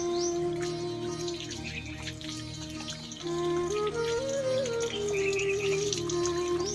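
Running tap water pours into a sink while hands are washed beneath it, a steady soft splashing wash with a faint tonal hum threaded through, fairly quiet and uninterrupted, no voices.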